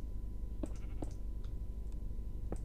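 Sheep in the blocky game Minecraft bleat in a few short, faint calls spread across a few seconds over a low, steady background hum.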